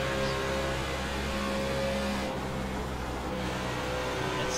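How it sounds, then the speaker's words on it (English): Racing video game cars circling Kansas Speedway in an online sim racing series, with a steady droning engine tone that briefly drops as drivers clutch in and cut their engines. "you can hear them clutching it, turning that engine off"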